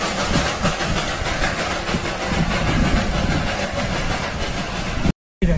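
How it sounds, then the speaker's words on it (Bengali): The Darjeeling toy train rolls along mountain rails near Batasia Loop, a loud steady rumble of engine and wheels with rhythmic chugging that fills the scene before cutting out abruptly. "আস্তে আস্তে আমাদের চোখের সামনে থেকে মিলিয়ে যাচ্ছে ট্রেনটি, ছুটে চলেছে তার নিজস্ব গন্তব্যের দিকে"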